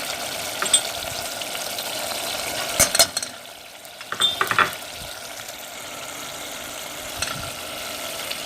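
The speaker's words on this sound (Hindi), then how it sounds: "अब हम मसाला भून लेंगे अच्छी तरह से।" Masala being fried and stirred in a pan for shahi chole, with a steady oily sizzle under repeated scraping strokes of a spoon and a couple of louder clattering bursts midway.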